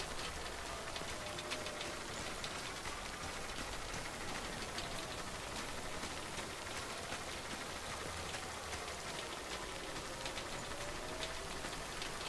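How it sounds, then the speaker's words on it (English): Steady, static rain falling in the video game Death Stranding, a continuous dense hiss of drops that stays even and unbroken for the whole stretch at moderate level, with no voices. "Rain sounds pretty good in this."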